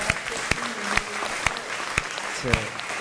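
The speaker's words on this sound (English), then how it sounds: "Give him a round of applause." Applause at a school board special meeting, steady clapping from a modest crowd with a few sharp, distinct claps standing out and some talk underneath.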